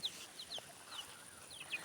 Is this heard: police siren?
no